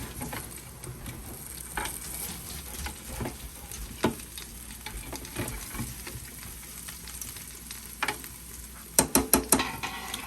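Potatoes frying in a pan and being flipped: a soft continuous sizzle with scattered stirring scrapes, ending in a quick cluster of sharp utensil clatters near the close.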